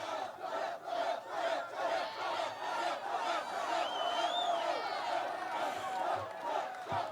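A political rally crowd in Big Rapids roars with sustained cheering, whooping and shouted chants, dense and continuous throughout, with scattered individual yells rising above the din.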